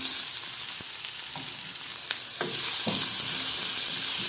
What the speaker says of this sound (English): And I keep stirring on low heat.